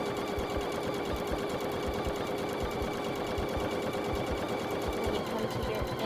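A sewing machine runs a steady back-and-forth row of stitches through fabric for a small reversible door bow, its rapid needle ticking continuous and fairly close throughout.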